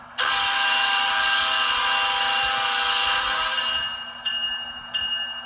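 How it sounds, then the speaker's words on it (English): A ScaleTrains ET44 model locomotive sound decoder sounds its horn: a sustained, bright chord held loud for a few seconds, then fading, with two short horn toots repeated after. "Function 2 is the horn."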